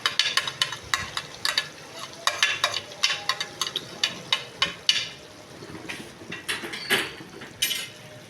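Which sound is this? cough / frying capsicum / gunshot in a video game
frying capsicum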